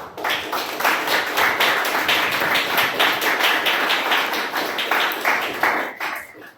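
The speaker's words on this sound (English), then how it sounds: "a huge round of applause for both of them" A round of applause for two award winners at a Toastmasters club meeting, steady dense clapping from a group filling the whole stretch and tapering off at the end.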